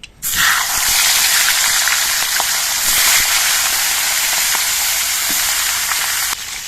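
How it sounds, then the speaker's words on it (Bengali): Fish heads frying in hot mustard oil in a wok, a loud steady sizzle with crackling spatter that runs unbroken for several seconds, close up with no talking. "সরষের তেলটা গরম হয়ে যাওয়ার পর এর মধ্যে মাছের মাথাগুলো ভেজে নিচ্ছি।"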